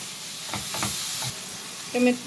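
Tomatoes go into a frying pan with peppers and a little flour, a brief sizzling rustle with a few scrapes, then a short clatter near the end.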